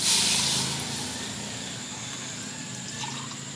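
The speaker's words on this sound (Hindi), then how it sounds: "ये इसमें मैं डालने लगी हूँ पानी 1 गिलास" Water splashes and pours steadily into a cooking pot for karela gosht, loudest at first and then settling into a continuous, fairly close trickle with no talking.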